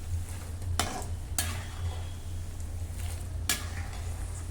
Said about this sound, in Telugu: జీడిపప్పులు బాదం పప్పులు కొంచెం ముక్కలుగా కోసుకొని వాటిని కూడా వేయించుకుందామండి అదే కడాయిలో వేయించేసేయండి అదే నూనెలో